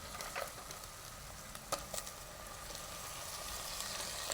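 Ginger garlic paste and tomatoes frying in a pan for a prawn biryani give a steady, soft sizzle with a few brief stirring scrapes, close and alone.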